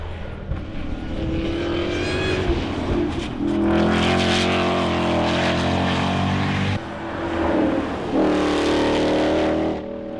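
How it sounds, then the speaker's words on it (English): A Ford Mustang GTD with a titanium Akrapovic exhaust roars loudly through sustained engine revs that rise and fall, shifting pitch between pulls, with no talking over it. "it's available with a titanium Akrapovic exhaust that sounds fantastic."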